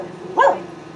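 A puppy gives one short, sharp yip-like bark, close and fairly loud, at a Florida concrete pool deck repair site with low background noise and no talk.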